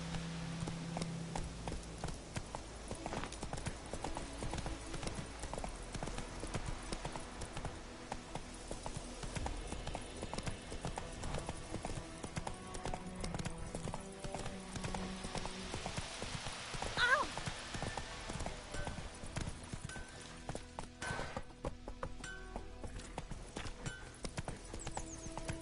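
Hooves of the horse Roach clip-clop at a steady walking rhythm in The Witcher 3, mid-distance beneath game ambience, with a brief whinny partway through.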